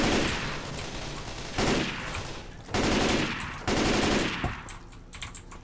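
Rapid automatic gunfire from the video game Left 4 Dead 2 on a carnival map, several loud sustained bursts of shots separated by brief pauses, with no voices.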